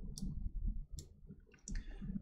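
A few sharp computer keyboard key clicks, spaced apart, tapped at close range over a low background rumble.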